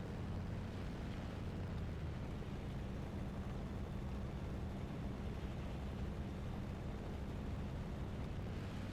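Steady aircraft engine drone from a climbing plane in War Thunder, a dense continuous rumble holding level and loud for the whole stretch with no voices.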